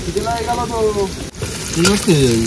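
Garlic and onion sizzle steadily in a hot pan, a constant close frying hiss running under people talking.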